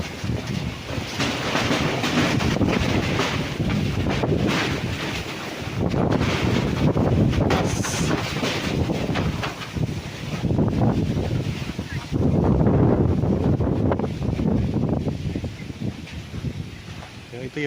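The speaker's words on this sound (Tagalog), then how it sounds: "ang lakas ng hangin." Heavy wind gusts batter the microphone on a one-hectare farm lot with poultry buildings in Pila, Laguna, producing a loud, rough roar that surges and eases in waves for the whole stretch, with a voice talking now and then.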